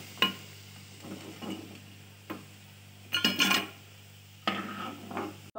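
Fried potatoes being lifted out of a pan with a utensil, a few close metallic scrapes and clinks spaced apart over a low steady hum.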